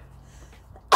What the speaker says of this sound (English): I'm trying to make the sun make me sneeze